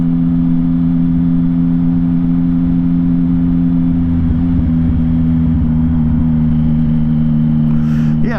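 Motorcycle engine pulling in second gear on a ride past a cemetery, a loud steady mid-pitched drone with strong constant harmonics and rushing wind noise, slight rise near the end.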